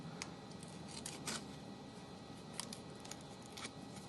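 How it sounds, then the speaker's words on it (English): Masking tape being trimmed on an HO scale model: faint, close snips and crinkly cuts repeat irregularly over a soft steady background hiss, with no talking. "I'm going to have to trim. Obviously, there's a little too much tape here"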